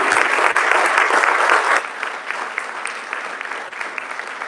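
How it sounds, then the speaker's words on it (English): A room at a school board meeting applauds the parents. A loud burst of clapping runs for under two seconds, then thins to scattered, softer claps that taper off toward the end. "let's give the parents a round of applause"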